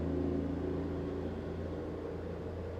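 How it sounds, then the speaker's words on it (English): Heavy trucks pass outside a house with a steady, loud low engine rumble that fills the whole stretch and never fades. It rises slightly at the start, and no one speaks. "These trucks go by."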